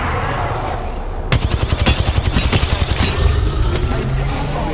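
Rapid automatic gunfire in the Apex Legends battle royale game, a loud close burst of evenly spaced shots lasting about two seconds over constant game noise, with speech mixed in.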